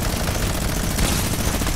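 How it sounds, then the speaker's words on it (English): A minigun in the Fortnite video game fires without pause, a dense, loud, continuous stream of rapid shots filling the whole moment. "I just love miniguns"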